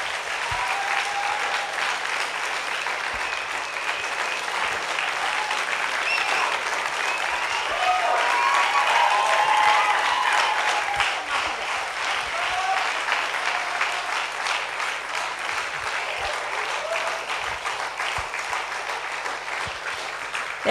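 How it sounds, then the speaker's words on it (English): A crowd gathered for a school graduation ceremony claps in sustained applause for about twenty seconds, with a few faint voices and cheers mixed in underneath. "could we give these guys a round of applause for all that they've done"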